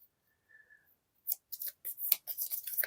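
Treasure cards for the Skyrim board game being shuffled, a quick run of crisp papery riffles and slaps after a brief quiet start, close and alone.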